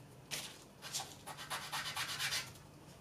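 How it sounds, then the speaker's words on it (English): Hand sanding on plywood: rhythmic rasping strokes, several quick back-and-forth passes, close and fairly quiet. "Try sanding upwards."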